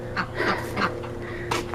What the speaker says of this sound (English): You guys are noisy ducks.